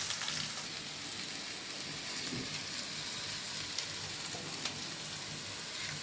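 Pieces of plantain, papaya and potato fry in a pan of oil, giving a steady, soft sizzle that holds evenly throughout with no talking.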